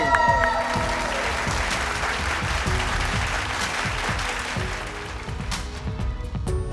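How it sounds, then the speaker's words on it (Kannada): An audience at a bowling league finals event applauds, dense clapping that rises at once and then gradually thins out over several seconds, with tonal music or background noise beneath. "A big round of applause please. ಜೋರಾದ ಚಪ್ಪಾಳೆ."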